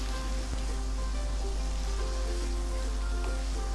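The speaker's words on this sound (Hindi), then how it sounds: "अब हमें इन टमाटर्स को अच्छी तरह से पकाना है।" Tomatoes fry in a pan for Lahori murgh chanay, a continuous even sizzle with a low steady hum underneath, close and without talk.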